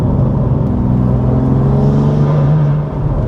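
A manual six-speed BMW M2 Competition with a CS+ spec remap of over 520 bhp and anti-lag runs with a loud, deep, steady engine drone, rising slightly in pitch, heard close and alone.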